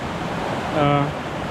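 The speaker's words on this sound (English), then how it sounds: "there's a lot of water coming through" Cave Creek in the Cheaha Wilderness runs high as a torrent, giving a steady broadband rush of water close by, with a brief tonal whistle or voice-like sound rising over it midway.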